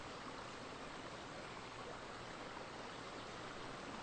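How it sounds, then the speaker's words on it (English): Running water in a forest brook: a steady, even rushing wash of flowing water, soft and continuous with no breaks or voices. "the running water in the brook"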